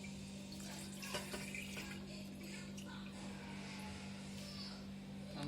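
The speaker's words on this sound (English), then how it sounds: "Put the milk in." Milk poured into a pot for mango phirni, a steady liquid stream heard faintly and continuously under a constant background hum.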